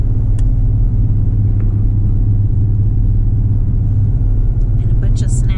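Steady low engine rumble from inside a RAM 3500 with a 6.7L Cummins diesel, towing a fifth-wheel trailer up an Arizona mountain grade after a downshift, with a brief faint voice near the end.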